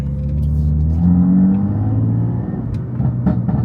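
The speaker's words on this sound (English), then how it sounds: "the car sounds so much better" A tuned 700 hp BMW F80 M3 engine revs and accelerates in Sport Plus mode with a loud, deep, rising drone and throaty rumble, close and continuous, shifting pitch as it pulls.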